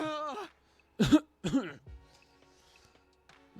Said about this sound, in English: Looks like this cough is going away.